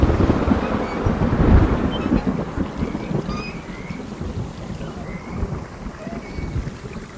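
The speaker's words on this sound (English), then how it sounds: "the blind person never has a roof over his head until thunder puts it there" Heavy thunderstorm with a deep rumble swelling early and rolling on, steady rain underneath and faint whistling tones drifting across the higher range.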